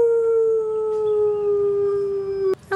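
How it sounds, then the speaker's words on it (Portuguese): A cartoon big bad wolf lets out one long, loud, steady howl in a forest scene, holding a single drawn-out tone before breaking off sharply at the end. "É o lobo mau, George!"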